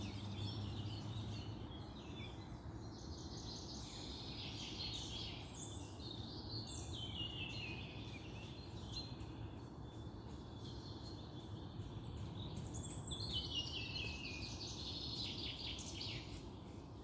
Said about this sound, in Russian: Послушайте, как поют птички в лесу.